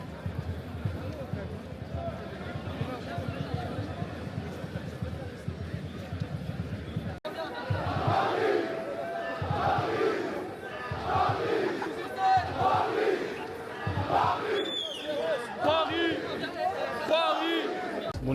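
Large crowd of football fans massed near the Arc de Triomphe in Paris on Champions League final night, a dense roar of shouting and chanting voices swelling louder after a quieter start, with nearby people talking over it.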